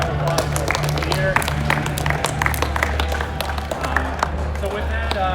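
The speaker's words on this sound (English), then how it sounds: "So please give yourself all a round of applause for the year." Crowd applause at a youth football championship trophy ceremony, steady dense clapping with cheers and chatter over a low constant hum throughout.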